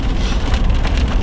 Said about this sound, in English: The weather is snotty. Wind and rain